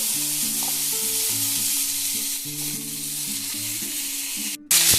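Chopped onions sizzle loudly and steadily in hot oil with tempering spices for a bitter gourd dish, a dense hiss running under background music until a brief cut near the end.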